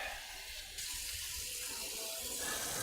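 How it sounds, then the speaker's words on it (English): Water from a tap runs steadily into a cooking pot, a continuous bright rushing stream that grows slightly fuller partway through, with no talking. "So I'm gonna get a little bit of water in this pot."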